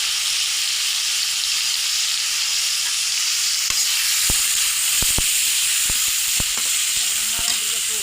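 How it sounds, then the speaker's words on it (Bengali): Chopped onion sizzles in hot oil with a steady, bright hiss, joined midway by several sharp pops and spatters. "তেল দিয়েছি, এখন পেঁয়াজ কুচি দিয়ে দেবো।"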